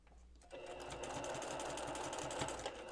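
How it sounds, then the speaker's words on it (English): Sewing machine stitching a quilt block seam, steady rapid needle clatter starting after a brief quiet moment and running continuously at moderate level with no talk. "Stitch right to the line."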